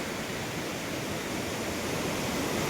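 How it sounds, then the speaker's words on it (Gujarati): The river flows below the Kalpeshwar waterfall with a continuous, loud, broadband rushing roar that is even and unbroken from start to finish, with no voices. "જો અહીંયા નદી જાય છે"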